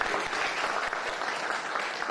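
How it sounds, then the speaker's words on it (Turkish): A seated audience at a commemorative panel event gives a sustained round of applause, a steady, fairly distant wash of many hands clapping. "bir alkış rica edeyim"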